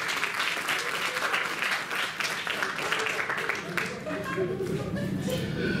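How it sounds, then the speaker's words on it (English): An audience applauds steadily for several seconds, a dense wash of clapping with a voice faintly underneath. "Let's give them a round of applause."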